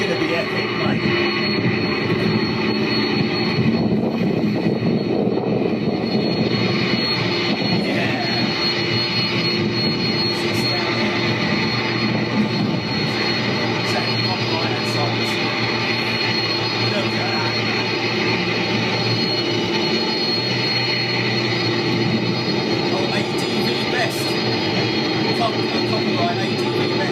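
Jet airliner taxiing toward the runway at London City Airport, a steady loud engine roar and whine heard continuously from nearby outdoors.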